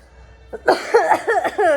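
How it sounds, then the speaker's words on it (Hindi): Several short coughs in quick succession, close and fairly loud, following a faint breath or throat sound. "खांसी खत्म नहीं होगी मेरे"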